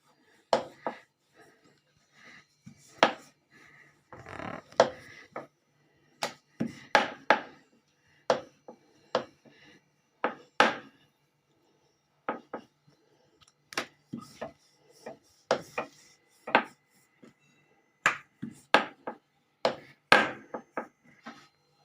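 Milk paratha dough being rolled out on a board, giving a steady run of short, sharp knocks and taps, close and fairly quiet, spaced irregularly with brief pauses and no talking.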